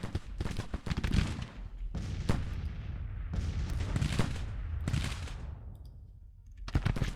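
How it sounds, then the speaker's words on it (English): Artillery guns firing across a Civil War battlefield in the strategy game Grand Tactician: repeated heavy booms arriving in clustered volleys with brief quieter gaps between, some near and some farther off, with no voices. "Looks like some of the Union forces a little disorganized, trying to maneuver under the fire of guns."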